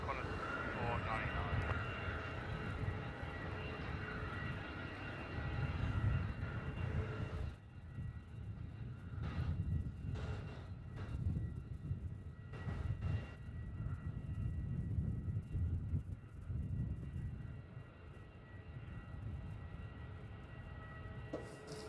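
A Qantas airliner landing on runway 34 at Melbourne Airport, a broad engine roar filling the first several seconds before easing into a lower rumble, with radio chatter and voices over it.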